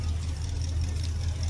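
A car engine towing a giant grocery-cart float in the 2023 Dairy Fest parade gives a close, steady low idling rumble that holds evenly throughout the short moment.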